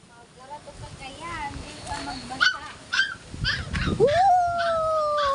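A dog howls and whimpers with rising, drawn-out wails, mixed with higher yips, over a noisy background with people faintly talking.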